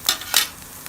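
Pan kebab fries in hot oil in a frying pan, with a few sharp sizzling bursts and light stirring scrapes close by, fading to a low hiss.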